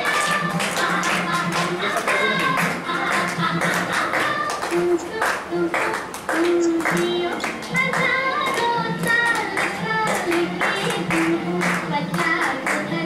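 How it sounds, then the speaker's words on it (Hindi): An audience at a birthday celebration in Korba claps along in a steady rhythm for several seconds, with voices talking over the clapping. "बाकी बैठे तालियों से खुशियों का"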